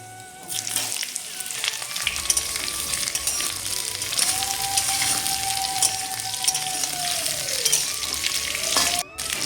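Cut pumpkin tipped into hot oil tempered with whole dried red chillies, bay leaves and panch phoron, sizzling steadily and fairly close for several seconds, with faint clinks and stirring over the continuous frying hiss.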